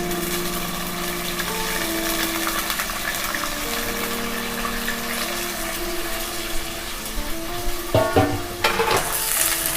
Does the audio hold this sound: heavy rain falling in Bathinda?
no